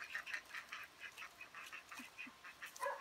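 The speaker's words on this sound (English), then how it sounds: "This is what runner ducks do." Runner ducks quack repeatedly in a garden, a steady series of fairly loud, raspy calls from a small group close by, with no talking.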